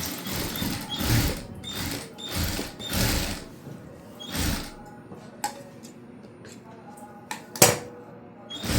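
A sewing machine stitches the second back piece of a back-open, front princess-cut blouse, running in several short bursts separated by pauses, with faint ticking handling sounds in between.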